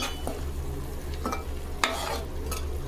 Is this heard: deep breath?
no